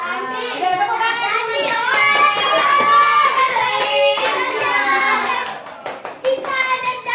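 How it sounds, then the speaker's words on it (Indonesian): Children in a classroom chatter and call out in high voices, then a brief scatter of hand claps breaks out near the end. "Udah, tepuk tangan."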